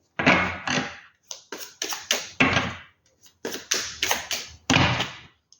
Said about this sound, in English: Too many cards. Let's keep shuffling.